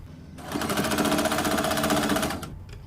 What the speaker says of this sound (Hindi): इसी के ऊपर इस तरह बराबर रख के यहाँ पर सिलाई लगा देंगे।